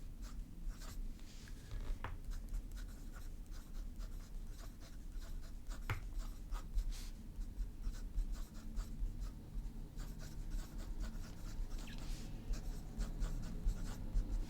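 Broad-nib Sailor Pro Gear fountain pen scratching across paper, laying down heavy ink in a continuous soft rasp of strokes with occasional sharper ticks, close and quiet.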